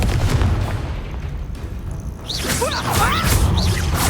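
A Confringo blasting spell goes off in Hogwarts Legacy as a loud, booming burst with swooshing rushes, followed by sharp whipping and whistling sounds from the fight, with no talking.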